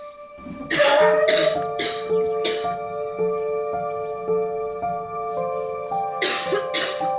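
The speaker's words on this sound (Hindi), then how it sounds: "दीदी को बहुत तेज खांसी हो रही है." A woman coughs hard in several harsh, rough bursts that come in clusters. A steady tonal drone runs underneath, like background music.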